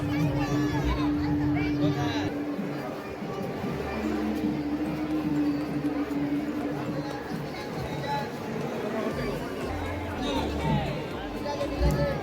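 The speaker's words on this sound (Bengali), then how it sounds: "প্রচণ্ড ভিড়।" Dense crowd chatter fills a busy Jagaddhatri Puja pandal at Mankundu Sporting Club, a steady babble of many voices with low rumbling background noise throughout.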